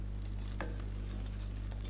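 Sweet vermicelli (seviyan) cooks in a pan with water over a low-medium flame, giving a soft, steady sizzle over a low hum, broken by a single brief stirring scrape.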